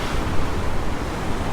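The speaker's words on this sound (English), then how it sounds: "the ocean here is just crashing in and filling that pool with that oxygenated water" Ocean waves crash into a rock pool on the coast, filling it with churning water. The steady, loud, broadband roar of surf continues without a break and with no talking.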